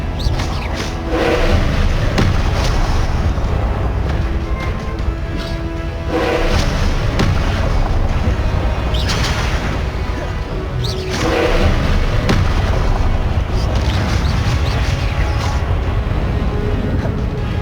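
Repeated combat spells in Hogwarts Legacy such as Incendio, Confringo and Expelliarmus, loud crashing blasts and thuds recurring every few seconds over a continuous rumbling battle bed.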